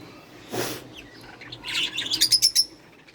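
A pet bird chirps close by: one soft rustle or call, then a quick run of bright, repeated tweets toward the end, clear and alone without talk.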